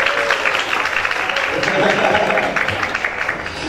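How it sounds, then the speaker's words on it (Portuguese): An audience at a stage show applauds a dance coordinator called up to the stage, dense steady clapping filling nearly four seconds with some voices mixed into the crowd noise. "Janaína Cavalcante, vem aqui ao palco com os seus aplausos."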